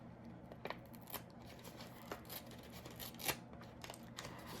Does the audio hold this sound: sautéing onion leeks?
no